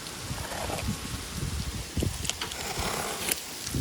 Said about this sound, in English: This wind today is horrible.